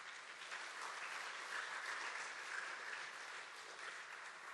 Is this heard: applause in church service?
yes